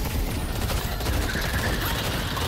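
Dense, continuous gunfire from a Deadlock match at the patron objective, a rapid, unbroken fusillade filling the whole stretch with steady loudness and no pauses.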